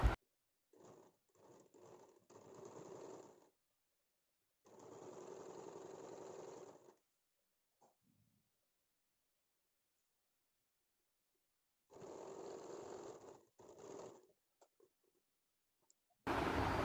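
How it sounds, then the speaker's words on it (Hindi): A sewing machine stitches a blouse in short close bursts of rapid whirring, separated by quiet pauses, with a few faint clicks between runs. "तो अभी जिस तरीके से है उस तरीके से हमें सिलाई देना है"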